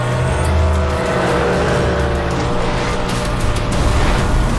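Race cars, including a Camaro and a Porsche, roar loudly and steadily in the Need for Speed The Run video game, with a sustained engine drone and faint tire noise throughout.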